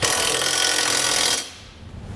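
A power tool tightens flange nuts on a Curt trailer hitch receiver on a 2015 Subaru Legacy. It gives a loud, close, continuous whir for over a second, then cuts off abruptly into quiet.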